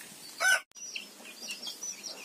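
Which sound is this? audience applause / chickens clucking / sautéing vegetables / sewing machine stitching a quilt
chickens clucking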